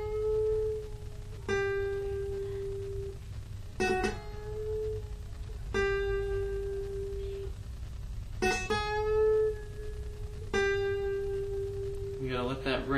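An electric guitar picks out part of the Yu-Gi-Oh! Season 1 theme, a few clear sustained notes and strummed chords rung out one at a time with gaps between, close and alone.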